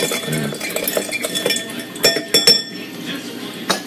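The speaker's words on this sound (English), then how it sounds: "And then you just stir it. Stir it real good." Ice clinking against a glass as a cocktail is stirred at home, bright rattling clinks with a few sharper knocks, up close and fairly loud.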